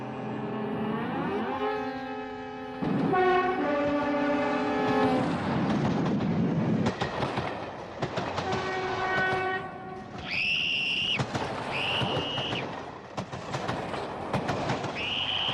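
A train on a UK railway rumbles and clatters past as a second train comes the opposite way, with several loud horn blasts sounding near the end.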